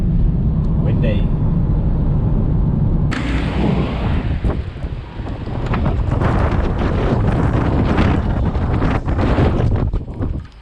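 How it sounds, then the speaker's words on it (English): Strong coastal wind buffeting the microphone on the way to the beach, a heavy continuous roar that swells and gusts throughout, with a person talking underneath. "Windy."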